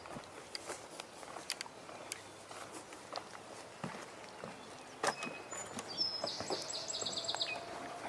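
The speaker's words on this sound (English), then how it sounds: "That was the song sparrow we just heard." Song sparrow singing outdoors on a spring tour, short bright song phrases rising over a busy background of other bird chirps, light footsteps and rustling, with a clearer trilling burst toward the end.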